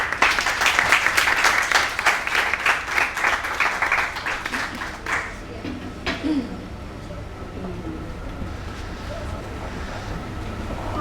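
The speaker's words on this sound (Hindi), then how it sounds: "आपकी तालियों में आयशा खुरम।" An audience at a school debate competition on population in Lahore, Pakistan, claps loudly and steadily for several seconds, then the applause thins out and fades into hushed hall ambience.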